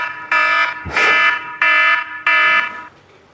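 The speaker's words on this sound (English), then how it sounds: "That was the alarm." Loud electronic alarm triggered by Zabbix server monitoring: four evenly spaced harsh buzzing tones, each about a third of a second long, with a brief thud between the first two.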